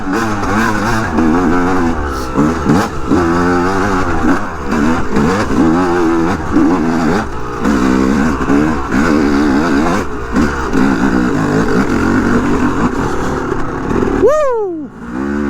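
A 2-stroke 250 motorcycle engine revving up close, with a loud, buzzy rising and falling whine that repeats through the run and a sharp final rev before it cuts off.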